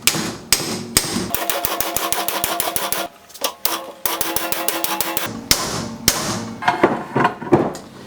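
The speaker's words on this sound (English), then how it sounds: "I kept progressing into larger and larger hammers" Rapid metallic hammer strikes on a pickle fork in a Porsche 996 Turbo's suspension, in fast bursts, ringing sharply, with brief pauses between volleys and a few heavier single blows near the end.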